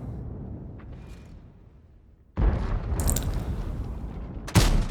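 Artillery shells fire at a tank in World of Tanks: a dull low rumble gives way to a sudden loud, sustained roar of blasts, then one sharp, heavy impact near the end.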